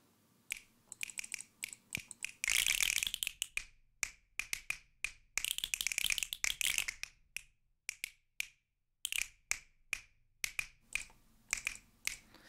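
Boz Digital Labs Le Snappet finger snap machine plugin fires crisp synthetic finger snaps in quick irregular bursts and single hits, dense rolls mixed with spaced clicks, clean and dry with no talking.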